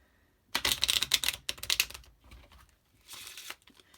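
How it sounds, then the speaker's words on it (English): A deck of playing cards is riffle shuffled close by: a fast, crackling flutter of cards, then a short second burst after a pause. Fairly quiet, with no talking. "And then I'll give it a couple of riffle shuffles too."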